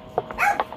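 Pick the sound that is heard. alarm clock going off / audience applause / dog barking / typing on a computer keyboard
dog barking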